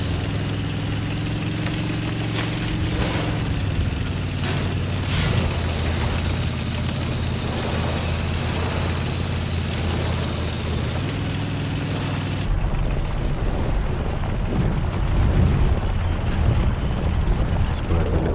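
Tank cannon blasts from World of Tanks on console, several booming shots over a steady idling engine drone, loud and close, with a sharp change in the engine hum partway through and no talking.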